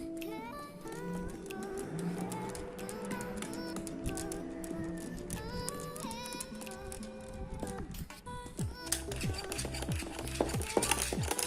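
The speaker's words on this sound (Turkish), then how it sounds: "Bu şekilde arkadaşlar iyice kek kıvamını alana kadar karıştıracağım." Cake batter being stirred with baking powder worked in gradually, a busy rattling and scraping of utensil against bowl running steadily throughout, close and fairly loud with clicks and knocks layered over music-like tones.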